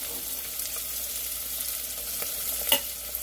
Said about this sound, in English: what I'm going to do is saute these sausage and veggies